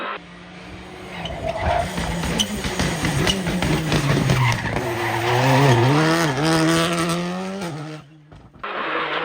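A rally car slides through a tight left hairpin, tires squealing in long wavering howls over a loud revving engine, the skid building and then cutting off near the end.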